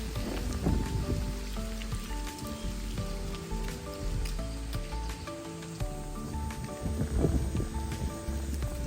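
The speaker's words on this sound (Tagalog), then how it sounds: "Looks like rain." Rain falls during a morning walk outdoors, a soft steady patter with scattered drops and light rustling throughout, heard at a moderate distance with no one talking.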